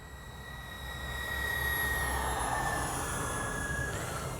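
Freewing twin 70mm AL-37 RC jet flying by at just under half throttle, a high ducted-fan whine that swells and fades as it passes, steady and moderately distant.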